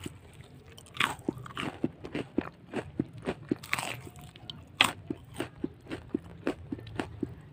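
Someone bites and chews a battered sausage snack with a very crispy flour coating, making close, sharp, crunching bites followed by steady rhythmic chewing crunches.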